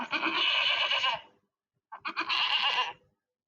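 A goat bleats twice in close succession, each cry loud, wavering and about a second long, separated by a short silence, with no talking over it.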